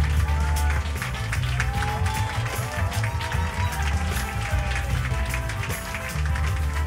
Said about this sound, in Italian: facciamo un bel applauso di benvenuto